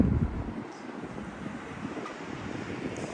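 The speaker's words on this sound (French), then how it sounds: "Il y a un peu de vent, c'est un peu relou." Wind blows outdoors in Fukuoka, Japan, a steady low rumbling buffet against the microphone, slightly stronger at the start, with no speech.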